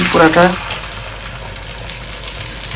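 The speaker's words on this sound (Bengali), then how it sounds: "এবার আমি ডিমটা ঢেলে দেবো ওর মধ্যে" Egg poured into hot oil in a pan, starting with a brief burst of sound and a voice and then settling into a continuous, fairly close sizzle that hisses on to the end.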